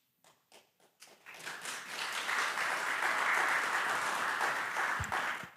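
Audience applause at a faith conference session: a few scattered claps first, then the room breaks into sustained, dense clapping that holds steady for several seconds, with no talk over it.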